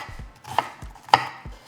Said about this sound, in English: We're going to begin by chopping our onion.